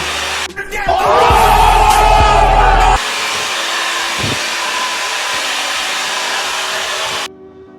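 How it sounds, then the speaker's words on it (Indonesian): A hair dryer blows on a cool setting while drying hair, a loud close steady whoosh that grows stronger for a couple of seconds, then settles to a lower steady rush before switching off. "Ini gue ngering rambut dulu."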